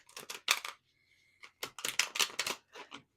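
Tarot cards being shuffled by hand, with quick papery riffling bursts in uneven clusters, close and fairly quiet, separated by a brief pause near the middle.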